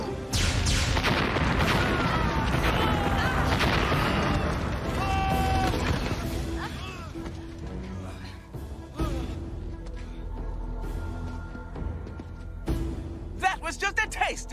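A loud booming cannon blast from a Power Rangers Wild Force episode rings out amid busy cartoon-style action effects and talk, followed by quieter scattered effects and voices.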